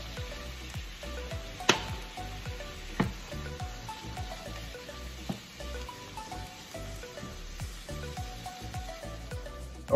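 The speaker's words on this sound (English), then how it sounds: "I'm going to saute my shrimp." Shrimp sauté in olive oil in a pan, a soft steady sizzle with faint crackles and a few sharp utensil clicks against the pan, close by and without talk.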